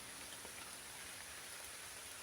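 Rain falls steadily on a park lake, a soft, even hiss of drops on the water, faint and continuous with no one speaking.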